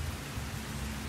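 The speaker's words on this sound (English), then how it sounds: "I'm going to take you out into the rain, into a nice, warm summer rain" Warm summer rain falls steadily on leaves, a dense even hiss of drops with a soft low rumble underneath, brief and continuous with no voices.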